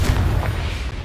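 The Confringo fire-blast spell in the Hogwarts Legacy video game lands as a short, heavy boom with a low rumbling burst that fades within a second.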